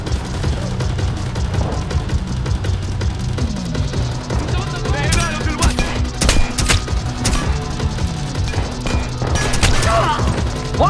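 Gunfire in Splinter Cell Blacklist, a fusillade of sharp shots and bursts cracking over a rumbling low backdrop, loud and close, with voices talking in between.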